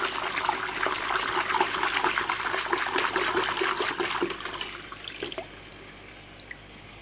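Rock salt being stirred by hand into one litre of water, giving a steady close swishing and trickling that fades to a few light drips and splashes near the end.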